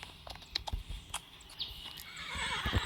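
A Great Percheron horse in a video game gives a neigh, with clip-clop hooves and scattered thumps over an outdoor ambience; the sound builds louder toward the end, and no one speaks.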